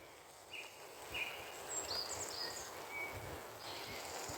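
Birds sing and chirp at an outdoor campsite in light rain, scattered high calls over a soft, steady hiss of rainfall, faint and distant with no talking.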